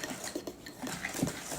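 Cookie dough being mixed with butter in a bowl, irregular scraping and clinking of a utensil against the bowl, close and moderately loud, with no talking.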